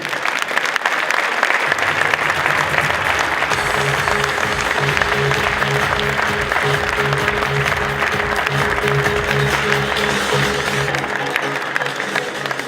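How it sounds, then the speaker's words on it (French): Sustained audience applause at the Midi Libre 2014 sports trophy ceremony, honouring Louis Nicolin. The steady clapping from a large crowd rises after a brief quiet opening and stays loud and dense until the end. "je vous demande d'applaudir M. Louis Nicolin"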